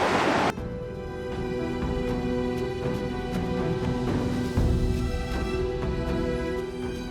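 Heavy ocean surf pounds continuously at sea near offshore wind turbines, a loud, steady roar of crashing waves that bursts in suddenly and then holds, with no voices.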